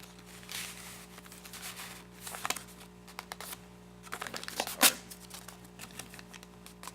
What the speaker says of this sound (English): That's just the covering paper.